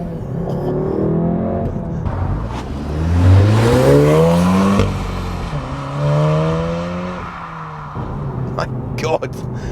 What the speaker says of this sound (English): you seen me there, accelerate, reach for another gear, pop it in, and right back on the boost